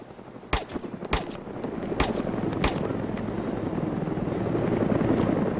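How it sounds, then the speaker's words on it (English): AI-controlled helicopter patrolling the map in DayZ Origins, a steady rotor drone building gradually louder, punctuated by several sharp gunfire-like cracks in the first few seconds. "AI choppers that patrol the map"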